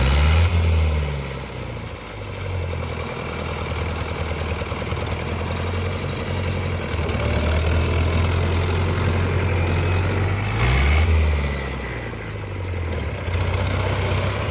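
Antique Fiat 640 tractor running with a zero drill in a field, a steady low diesel thrum throughout, with the engine load dipping and surging briefly a few times, no voices.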